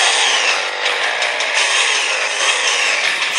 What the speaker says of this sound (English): The razor sounds weird.